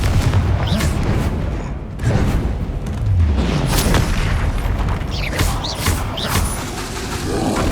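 Confringo spell explosions in Hogwarts Legacy on PS5, a run of loud booming blasts and thuds repeating every second or so amid dense combat effects and whooshes.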